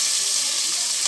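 Chicken pieces fry in hot oil for a Haitian dish, giving off a dense, steady sizzle and hiss that stays loud and unbroken throughout.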